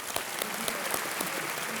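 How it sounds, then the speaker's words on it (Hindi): Studio audience applause on the quiz show Kaun Banega Crorepati, a steady dense clapping that fills the whole short stretch at moderate loudness, with no voices over it. "तालियों के साथ अभिनंदन।"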